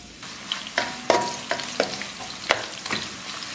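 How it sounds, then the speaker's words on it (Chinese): Scallion and garlic hit hot oil in a wok with a close, steady sizzle and crackle, punctuated by several sharp spatula clanks against the pan. "咱给锅里边稍微来点油，葱蒜给它爆香"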